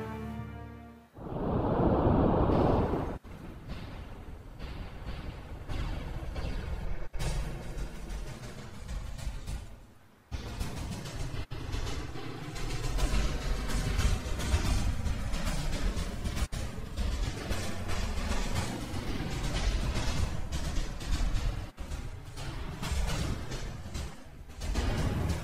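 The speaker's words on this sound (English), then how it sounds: "Nice primary and secondary explosions there" Spacecraft blown apart in Kerbal Space Program: a loud roaring blast, then a continuous heavy rumble and crackle of burning debris that swells again partway through.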